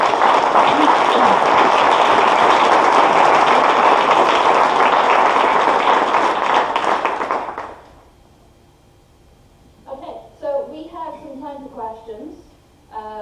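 A conference audience at satRday Cape Town gives loud, sustained applause for about eight seconds before it fades out and a speaker's voice resumes.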